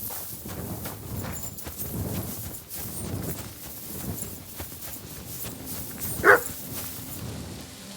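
A single dog bark rings out, moderately loud and close, in the video game Kingdom Come: Deliverance II, over a steady bed of outdoor ambience and footstep-like thuds.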